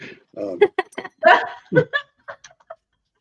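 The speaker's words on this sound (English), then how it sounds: "the barking you hear is my dog. That is Waffle, the little the little long-haired dachshund protecting the house" A small long-haired dachshund barks in a house, a series of short sharp yaps in an uneven burst, fairly close, with bits of laughter mixed in.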